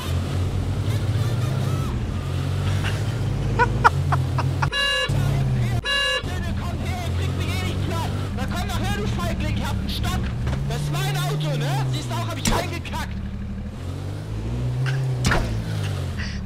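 A car drives in the survival video game H1Z1, its engine running continuously with a couple of sharp horn toots and other game noises, while players talk excitedly over it.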